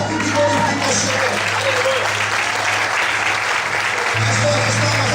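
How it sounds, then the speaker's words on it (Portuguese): A church congregation claps and applauds together during a worship service, a dense, steady wash of hand claps lasting throughout, with a low hum running underneath. "Quem crê, bate palma e glorifica o Senhor"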